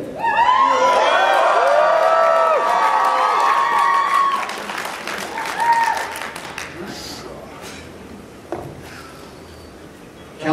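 An audience at a sumo wrestling match at the Otakon Vegas 2014 convention cheers, shouts and whoops over sustained applause, loud and close at first, then thinning into scattered claps and calls.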